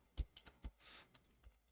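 Fingers tap on a computer keyboard in a few quick, separate keystrokes, soft and close, with short pauses between them in a quiet room.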